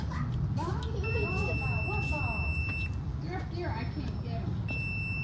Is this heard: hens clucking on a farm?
no